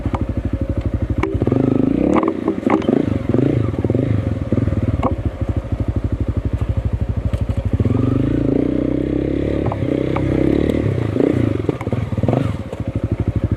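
A motorcycle engine runs with a steady, loud putter while being ridden, its pulsing rhythm rising and falling with the throttle, accompanied by occasional clatter and knocks.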